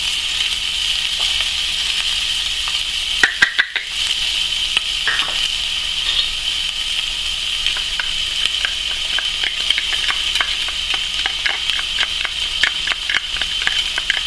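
Onion and garlic frying in a pan, a steady bright sizzle throughout with occasional stirring scrapes and small pops, close and loud.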